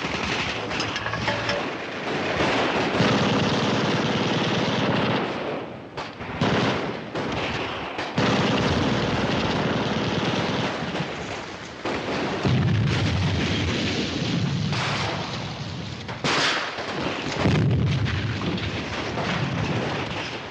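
Sustained battlefield barrage from a 1953 war film, with booming artillery fire and gunfire filling the scene loudly and nearly continuously, swelling into repeated heavy blasts.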